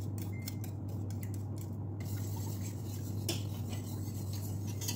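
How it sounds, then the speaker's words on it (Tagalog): A spoon stirs milk pudding mixture in a pot, giving a quick run of light clinks and scrapes that fades to a faint, quiet background with a steady low hum. "haluin ng maigi"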